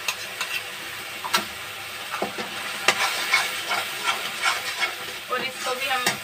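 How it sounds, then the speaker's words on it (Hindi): Potato masala made with yogurt sizzles and crackles in a hot pan, with occasional scraping stirs and small ticks from the utensil. "एक मिनट के लिए इसी तरीके से थोड़ा सा फ्राई कर लेते हैं।"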